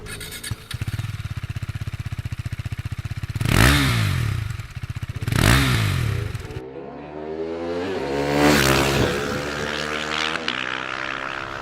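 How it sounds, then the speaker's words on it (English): A 2017 KTM RC 390 motorcycle engine idles with a rapid, loping exhaust pulse, then revs sharply several times, the exhaust note rising and falling close by. "the last part is obviously the exhaust note"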